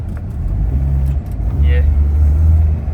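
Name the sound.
2005 Corolla pickup engine noise when accelerator pedal pressed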